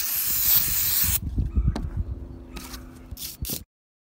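An aerosol CRC electronics cleaner sprays onto a Super Nintendo motherboard in a long loud hiss, then after some rattling handling noises, two short sharp spray bursts follow.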